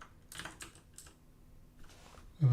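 Quick, quiet bursts of keystrokes on a computer keyboard, a few close taps followed by a short pause and another brief flurry, ending with a soft thump.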